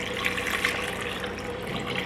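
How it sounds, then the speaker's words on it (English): Two cups of warm milk poured into sugar, a continuous close splashing trickle that runs steadily throughout. "So then we're gonna add our 2 cups of warm milk."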